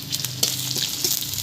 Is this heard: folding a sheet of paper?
no